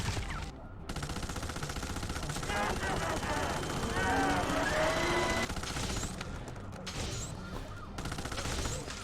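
Rapid submachine gun fire in the beat-'em-up video game Final Fight, sustained bursts of automatic shots running through most of the stretch, loud and dense, mixed with game music and effects and no speech.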